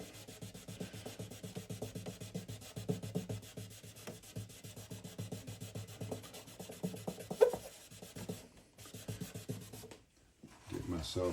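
Guitar finish wet-sanded by hand with sandpaper and kerosene, quiet rhythmic back-and-forth rubbing strokes, close, with brief pauses and faint handling.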